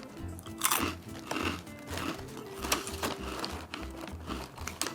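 Someone munches Trader Joe's sour cream and onion rings up close, a run of crisp, rhythmic crunches and chews repeating steadily at low volume with no talking.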